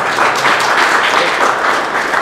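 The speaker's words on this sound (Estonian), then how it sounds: "Jätkame aplausiga, loomulikult." Loud, dense audience applause at an award ceremony for an automotive trades skills competition, a continuous wash of clapping hands heard up close without any voices.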